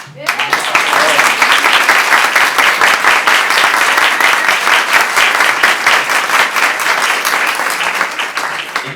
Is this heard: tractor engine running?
no